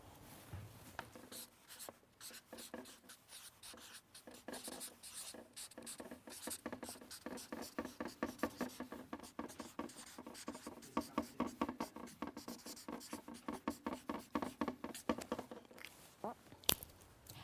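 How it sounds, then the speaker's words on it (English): A pen writes on paper during an English lesson, scratching in fast, rhythmic strokes that grow busier and more clustered over about seventeen seconds. The sound is close but quiet. "Let me write that for you."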